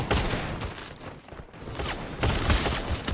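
Gunfire erupts during a jumping shot in a Free Fire battle, with dense rapid bursts of shots crackling loudly in two main volleys separated by a brief lull.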